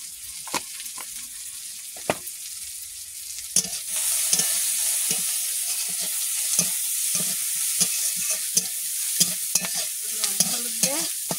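Onion, garlic and green chilli fry with salt and turmeric in a pan, hissing in a constant bright sizzle. Repeated sharp scrapes and taps of a stirring spoon sound over it.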